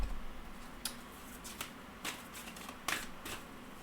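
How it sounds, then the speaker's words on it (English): Oracle cards are shuffled by hand close up in quick riffling bursts, several crisp flutters and slaps spaced unevenly over a few seconds against a soft background hum, with no speech. "let's pull you an oracle card."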